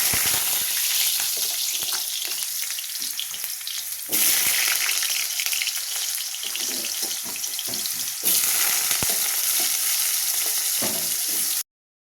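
Potato pieces fry in hot oil in a pan as part of a dry cauliflower curry, giving a loud, continuous close sizzle with bursts of crackling that swell at intervals, alone until it cuts off abruptly.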